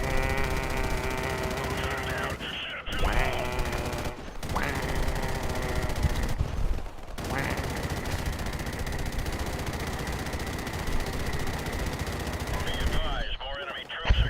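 Machine gun fire in the Call of Duty Modern Warfare video game, long sustained bursts broken by brief pauses, loud and close with voices under the shooting.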